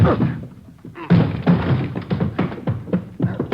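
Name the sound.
door being forced open in radio drama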